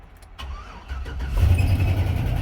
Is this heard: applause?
no